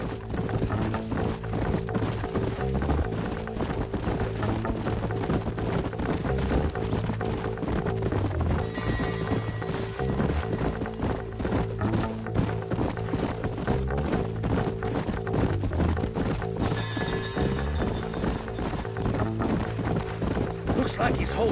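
Horse hooves clip-clop steadily in the Red Dead Redemption remaster, a continuous rhythmic trot beneath a dense bed of game music and ambience, with mechanical clicking mixed in throughout.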